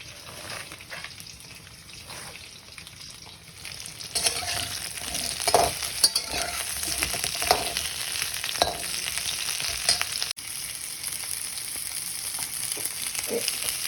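Chopped cauliflower stalks and leaves sizzle steadily in a hot pan for a mixed-vegetable dish, with a spatula scraping and stirring them now and then. No one speaks.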